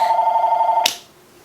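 A telephone rings loud and steady, a trilling electronic tone that cuts off abruptly with a click, leaving a quiet room behind.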